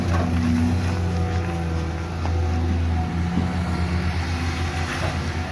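A CAT 320 Next Generation excavator engine idles steadily and close by during pond digging, a smooth low drone with a deep, even rumble and no talking.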